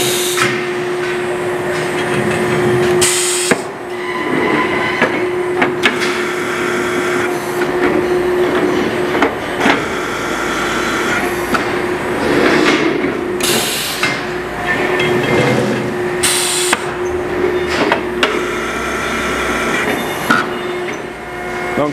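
A hydraulic glue clamp used for edge-gluing wood panels, giving off a steady hum with a droning tone, repeated clunks and knocks, and bursts of hissing as it is tightened.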